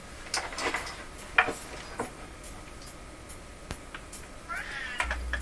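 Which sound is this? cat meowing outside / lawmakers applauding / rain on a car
cat meowing outside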